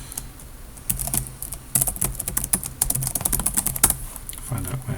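Close-up clatter of a computer keyboard as a grep command is entered, with rapid bursts of key clicks speeding up in the middle, then a few final taps.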